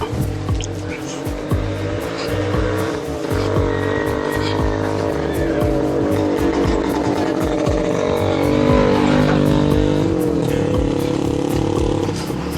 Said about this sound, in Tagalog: Pasok ang tricycle.